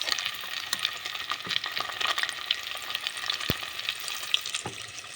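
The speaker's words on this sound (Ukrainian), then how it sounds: "будемо по декілька хвилин обсмажувати на сковорідці" Steady crackling sizzle of chicken pieces frying in a hot pan, with occasional sharper pops and faint clinks, continuous throughout with no talking.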